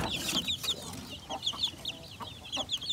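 Chicks and a hen on a small farm brooding setup cheep and cluck in rapid, busy bursts close by, high peeps overlapping a steady low clucking with faint background noise.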